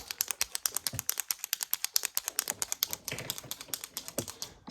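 Rapid, crisp clicking taps in quick succession, close and fairly even in rhythm, with a brief pause partway through.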